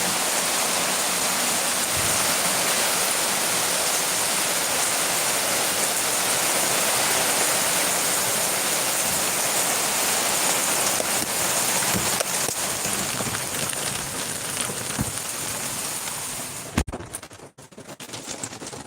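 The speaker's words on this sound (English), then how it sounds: "It started pouring down rain" Heavy rain pours down in a steady, loud, unbroken roar that fills the whole stretch, then cuts out abruptly near the end with a few clunks; no one speaks.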